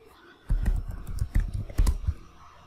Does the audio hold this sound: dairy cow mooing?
no